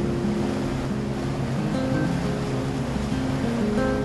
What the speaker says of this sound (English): So we're just motoring along at the moment.